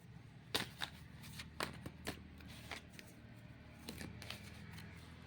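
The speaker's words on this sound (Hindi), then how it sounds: "ऑलरेडी मैंने शफल कर दिया है" Tarot cards are shuffled by hand in a quiet room, giving several soft, quick riffling bursts in irregular clusters, close and faint with no voice over them.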